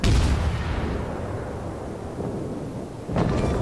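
Ship guns firing in World of Warships, a deep booming blast at the start that rumbles away, then a second heavy boom near the end, loud and close with no talk.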